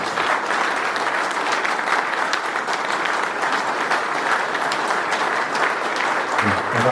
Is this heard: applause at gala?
yes